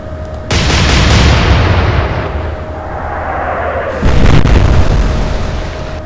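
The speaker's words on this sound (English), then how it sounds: "And let's go high explosives this time. Shoot!" Heavy naval guns fire high-explosive shells in the Atlantic Fleet game: a loud booming salvo erupts, rolls off into a long rumbling decay, then a second big blast hits about four seconds later, with no talking.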